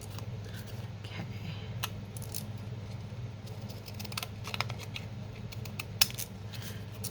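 Scissors snip through paper with a run of small, crisp clicks and cuts over a low steady background hum, close and fairly quiet, with one sharper snap near the end.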